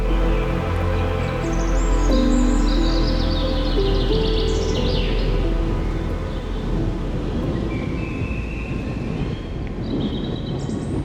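Birds chirping in a forest along a hiking trail in the Ayubia Hills, bright tweets and trills scattered over a steady low rumble of wind and distant noise.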